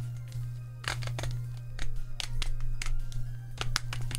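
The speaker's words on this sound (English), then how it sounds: "this is the sound of my phone holder" A phone holder being adjusted makes a series of faint, irregular plastic clicks and rattles over a low steady hum, close to the microphone with no talking.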